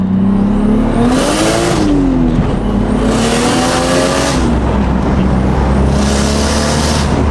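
A 600 wheel-horsepower car engine revs up repeatedly to about 5,000 rpm, rising and falling in pitch with three loud high-rpm pulls, continuous and close with no talking.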